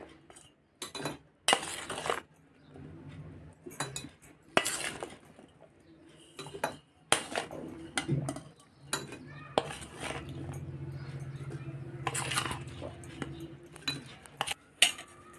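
Homemade mixed raw mango pickle with oil and masala goes into a clean ceramic jar, with scattered clinks, scrapes and knocks of utensils against the jar, some sharp and close, between quieter gaps.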